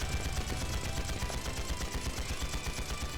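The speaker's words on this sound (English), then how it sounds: "The bullets are just flying past his face." Rapid, continuous gunfire in The Legend of Heroes: Trails into Reverie, a dense rattle of bursts that fills the whole stretch at steady loudness, with no voices over it.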